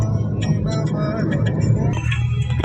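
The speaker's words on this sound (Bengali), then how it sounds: "সকাল সকাল পাঠানকে নিয়ে পাঠান আবার গাড়ি চালাচ্ছে।" A car travels along the highway from Siliguri toward Guwahati, its cabin filled with a steady low engine and road rumble, with a voice or music over it and a few faint clinks.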